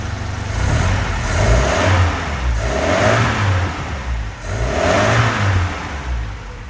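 A 1962 Bedford five-window-cab pickup fitted with a Weber carburettor revs up and settles back in three close, loud rising and falling cycles, its engine note swelling and dropping with no talk over it.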